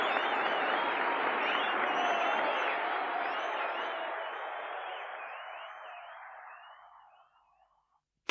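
Applause from a crowd of 100,000 people filling an Olympic stadium, a dense, steady roar of clapping that holds strong and then gradually fades away to silence.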